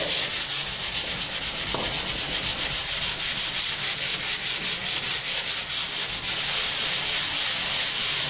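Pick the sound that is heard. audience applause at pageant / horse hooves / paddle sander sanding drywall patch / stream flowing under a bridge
paddle sander sanding drywall patch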